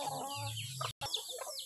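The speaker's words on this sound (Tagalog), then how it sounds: "Nag-aaway sila yung mga manok." Native chickens squabbling on a farm, giving a short burst of excited clucks and squawks at close range, with a brief break before more agitated calls.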